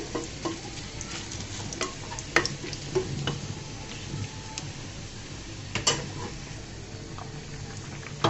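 Whole cumin seeds frying in hot oil give a quiet, steady sizzle with scattered light pops and crackles, heard close and alone without talking.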